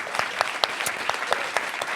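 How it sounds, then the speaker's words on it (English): An audience claps steadily, a dense patter of many hands applauding at moderate volume with no voices over it. "please join me in a round of applause for them"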